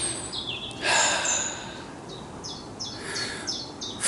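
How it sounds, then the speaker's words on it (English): Birds call back and forth in a small wood, a run of quick falling chirps and tweets scattered across the clip, some near and bright, others softer, with a faint breathy sound in the middle. "And the birds talking to one another."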